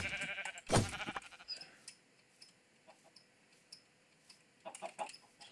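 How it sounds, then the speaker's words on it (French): Chickens in the Minecraft video game cluck faintly in short scattered bursts after a louder bleat-like call at the start, over quiet background, with no one talking. "J'entends des poules."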